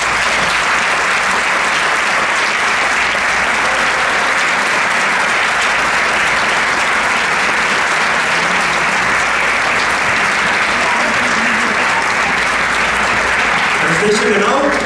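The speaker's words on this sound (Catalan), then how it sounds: "Un fort aplaudiment per ell." Sustained, enthusiastic applause from a large concert audience for a band's composer, dense clapping filling the space steadily throughout.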